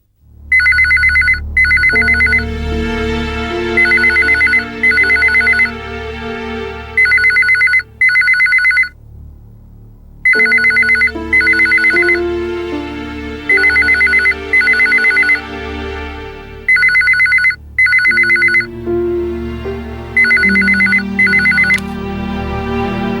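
A telephone rings in repeated bursts of bright electronic trills over a music bed, sounding many times across the stretch with short pauses between rings, loud and close, in a Tamil TV drama scene.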